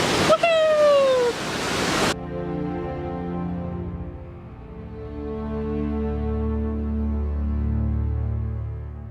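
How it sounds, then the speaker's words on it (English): Yellow Creek Falls roaring as a steady broadband rush of falling water, loud and continuous after a brief excited shout and cheer at the start, with the wash swelling and easing slightly throughout. "let me get the waterfall in the background"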